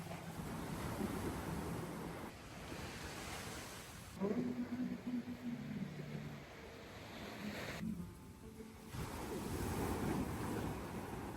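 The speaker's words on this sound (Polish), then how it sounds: "Morze dzisiaj jest naprawdę bardzo blisko, kochani." Sea surf rolls in right up to a seaside restaurant, a steady wash of waves and wind noise with a brief tonal hum in the middle and no clear talk over it.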